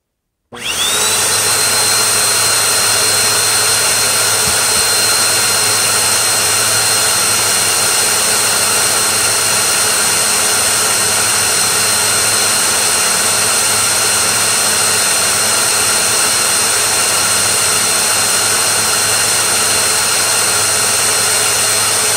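A Bissell Powerforce bagged vacuum cleaner fitted with a clean HEPA bag runs steadily during an airflow test, giving a loud, continuous motor whine and rushing air that starts abruptly and holds unchanged, with no talking.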